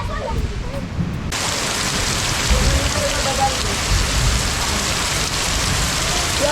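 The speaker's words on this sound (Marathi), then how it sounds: "पाऊस आमच्याकडे मरणाचो इलेलो असा" Heavy rain pours down in a dense, steady hiss that starts suddenly and keeps on, loud and close.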